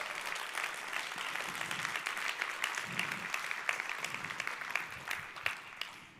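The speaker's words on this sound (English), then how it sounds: "let's give a huge round of applause for our sponsors" An audience at a career talk applauds its sponsors, giving a steady round of many clapping hands that is moderately quiet and slightly distant and tapers off toward the end.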